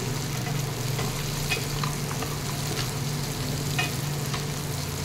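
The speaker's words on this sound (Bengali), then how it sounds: "বড়িটার সঙ্গে ভালো করে নাড়িয়ে চাড়িয়ে নিয়ে" Lentil dumplings (bori) being stirred with ground spice paste in a hot pan, a steady close sizzle of frying with scraping stirs and occasional spoon clinks against the pan throughout.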